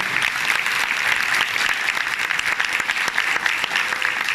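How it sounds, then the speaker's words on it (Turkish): An audience at a Turkish culture research award ceremony breaks into sustained applause, a loud, even roar of many hands clapping without pause from start to finish. "Evet alkışlarınızla."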